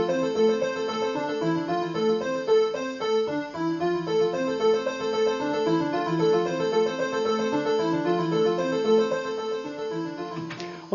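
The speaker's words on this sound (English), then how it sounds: "Let's just play with the delay control." A Novation Supernova arpeggio repeats continuously while its delay control is adjusted, so the echoes shift and thicken over time. The patterned synth notes play steadily throughout, and a brief glitch is heard near the end.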